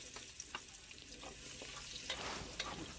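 Garlic sizzles and crackles steadily in a frying pan while it is stirred, with a few sharper scrapes of the utensil against the pan rising through the continuous hiss.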